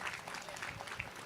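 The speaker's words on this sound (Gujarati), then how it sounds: "એકવાર જોરદાર તાળીથી વધાવો." Listeners at a Bhagavat Katha gathering in Surat applaud, soft and fairly distant, a steady patter of clapping with a faint crowd murmur underneath.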